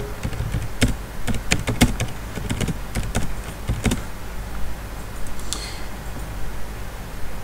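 Keys clicking on a computer keyboard as a message is typed, a quick irregular run of sharp taps that thins out and trails off partway through, close and fairly loud over a quiet room hum.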